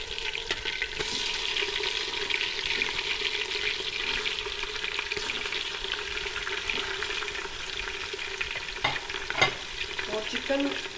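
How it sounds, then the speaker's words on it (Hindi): Steady, dense sizzling of chicken frying in a hot pan with garlic, continuous and fairly close, with a few light clinks of a utensil near the end. "अब मैं चिकन डालने लगी हूँ इसमें।"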